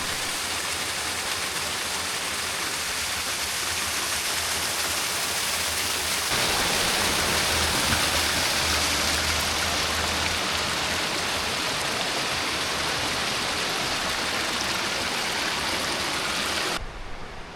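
A 40-foot waterfall on the Crystal River pours in a steady, dense roar of rushing water that grows fuller partway through and stays loud and unbroken before cutting off abruptly.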